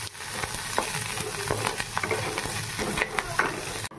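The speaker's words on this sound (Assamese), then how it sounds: "কঁঠালৰ গুটি কিটা দি দিছো কাটি লোৱা এয়া ভাজি আছো" Jackfruit seeds and dried fish frying in a pan, with a continuous moderate sizzle broken by repeated clinks and scrapes of a stirring spoon at close range.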